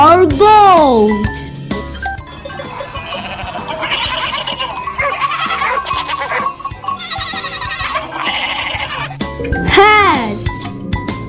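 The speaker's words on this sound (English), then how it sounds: "G for goat." A goat bleats in wavering cries at the opening and again toward the end, over cheerful children's music with tinkling bells and a singing voice.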